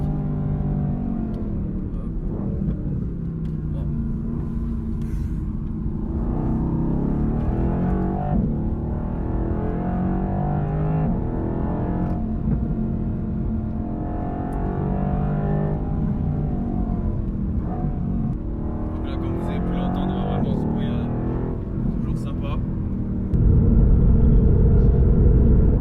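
A Mercedes-AMG GT R with a 585 hp engine accelerating hard, a loud, steady low rumble and engine drone throughout, rising and swelling in waves, with a deeper surge near the end.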